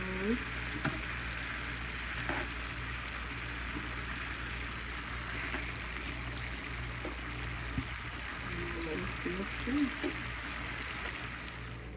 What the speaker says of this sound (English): now that our sauce has cooked down a bit, we'll just go ahead and add that lamb back in